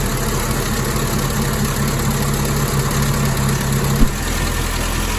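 A 1961 Triumph TR3A engine idling after a carburetor tune, a loud, steady close-up rumble with an even low hum throughout and a brief bump near the end, no talking.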